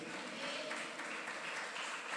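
Church congregation applauding together at a Christian worship service, a steady, dense wash of clapping that fills the space evenly from start to finish with no voices standing out.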